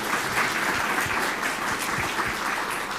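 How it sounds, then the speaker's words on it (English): An audience claps after a talk on generative AI in engineering education, sustained and fairly loud applause from a full room with a few sharper individual claps standing out. "Give a big round of applause."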